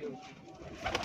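A Firozpuri pigeon, a rare breed, gives a soft low coo at close range, brief and unaccompanied by talk.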